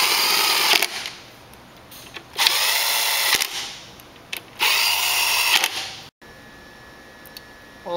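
Power drill driving bolts back into a Whac-a-mole arcade machine during a solenoid repair, three loud whirring bursts of a few seconds each with short gaps between, close and without talk.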